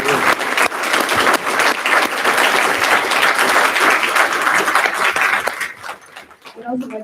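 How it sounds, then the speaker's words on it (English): An audience applauds the team at an evening forum on disability issues in Wyoming. The clapping stays loud and dense for about six seconds, then thins out as a few scattered claps and murmurs remain. "Let's give a round of applause to our team."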